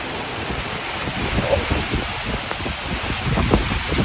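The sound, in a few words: strong wind during rain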